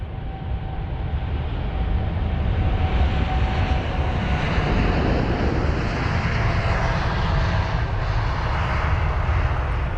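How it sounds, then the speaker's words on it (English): Air Canada Boeing 787-9 Dreamliner taxiing at London Heathrow, a loud, steady jet engine roar with a faint whine, close by and sustained for the whole stretch, with no talking over it. "we've got the Air Canada on the move off to Toronto, this Boeing 787-9 Dreamliner with flight number AC855"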